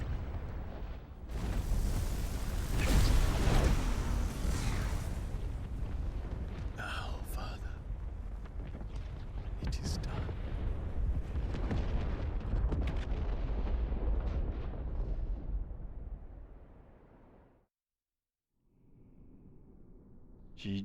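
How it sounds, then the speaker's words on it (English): Final Fantasy XVI firing sequence with heavy rolling explosions and booming blasts, loud and dense for most of the stretch before fading to a brief silence, with a voice speaking over it. "I love a good firing sequence."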